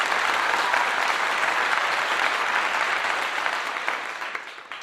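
Steady, full applause with many hands clapping evenly throughout, close and loud, tapering slightly toward the end with no talking over it.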